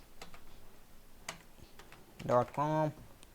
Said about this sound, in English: Let's say I'm typing just my names and just the website URL